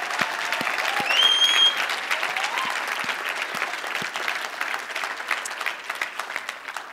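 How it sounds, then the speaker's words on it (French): An audience in a church breaks into warm, sustained applause, a dense crowd of clapping hands that carries on steadily and eases slightly toward the end. "est-ce qu'on peut juste lui donner une main d'acclamation en commençant?"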